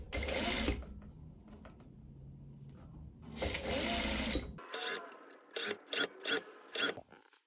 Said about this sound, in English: you just need to turn this over again and stitch it again